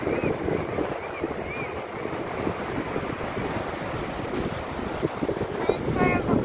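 Ocean waves washing onto a shore at low tide, a steady broadband wash mixed with wind rumble against the microphone, continuous and moderately loud, with faint voices briefly near the end.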